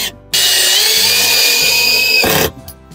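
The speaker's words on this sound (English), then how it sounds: "that allowed us to screw into the front of it like this" A power drill drives screws into the front of a board while fitting out a 1970s RV, giving one loud, close, sustained whine of about two seconds that starts and stops abruptly.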